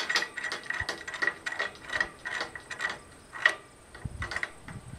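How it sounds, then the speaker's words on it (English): A shackle being tightened while rigging an 80 ft Bergey Excel 1 guyed tilt-up wind turbine tower, heard as a fast run of close metallic ratcheting clicks that repeats in short bursts. "tighten up this shackle."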